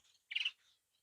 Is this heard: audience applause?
no